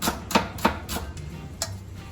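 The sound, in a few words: knife slicing vegetables into thin rounds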